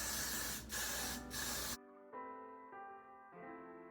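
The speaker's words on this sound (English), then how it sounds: "Spray it with the freeze spray" Freeze spray hisses onto the hair of an ash blonde synthetic lace front wig in a few loud, close bursts, then cuts off abruptly, leaving only quiet tonal sounds.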